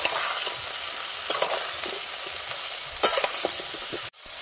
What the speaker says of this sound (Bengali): আমি প্রথমে কপি আর আলুগুলো ভেজে নেব